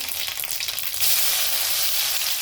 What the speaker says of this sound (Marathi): तेल तापलं की जिरे मोहरी टाकू आपण तर जिरे मोहरी टाकली लसूण टाकू